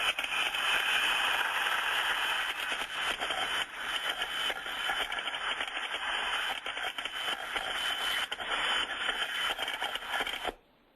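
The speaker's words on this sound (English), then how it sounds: "a little bit of a crackling sound as that steam comes through" A steam trap in continuous discharge gives off a steady, dense rush of crackling, hissing steam, loud and close throughout, cutting off abruptly at the end.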